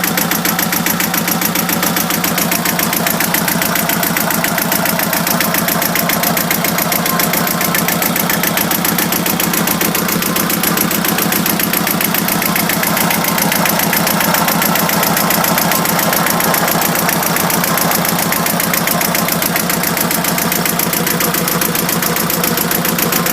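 A Shannon 28 sailboat's engine idles steadily with a rapid, even knocking pulse and exhaust chug, constant and close for the whole stretch.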